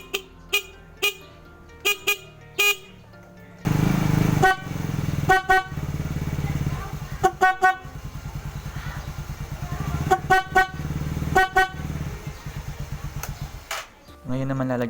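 A Bosch compact car horn, installed without a relay, honks repeatedly, short blasts then longer held ones, loud and close, with an engine idling underneath.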